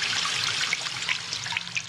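Fast-flowing water in a cartoon, a steady broadband rushing with a few splashy bursts, continuous and fairly loud throughout with no talk.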